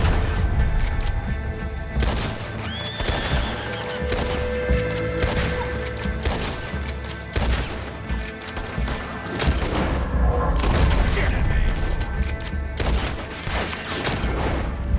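Rapid gunfire crackles almost without a break in Red Dead Redemption 2, a dense fusillade of sharp shots with occasional heavier booms, loud and continuous throughout.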